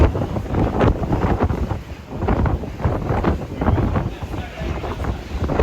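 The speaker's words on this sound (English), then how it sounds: "it's super windy" Strong wind buffeting the microphone on the sun deck of the MSC Meraviglia cruise ship at sea, loud gusty roaring and thumping that rises and falls throughout.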